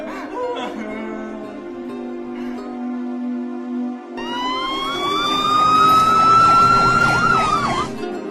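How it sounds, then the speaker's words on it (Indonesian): Police car siren wailing in a film, rising and falling in a loud sweeping tone that enters midway and swells over a low musical background. "dari kejauhan terdengar suara sirine mobil polisi"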